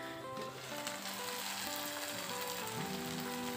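Garlic and brinjal sautéing in hot oil for a chickpea tamarind kuzhambu, a steady close crackling sizzle with no talk.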